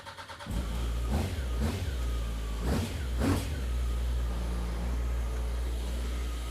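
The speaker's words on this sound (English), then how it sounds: "That's a super smooth, quiet engine actually." A Honda S2000 engine, started cold with a push button, fires up after a brief crank and settles into a smooth, steady idle, with a few quick throttle blips along the way. It sounds close and alone, with no one talking.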